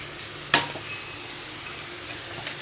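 Quiet, steady sizzle of frying in oil as turmeric powder goes in, broken by two sharp scraping clinks of a spoon against the pan.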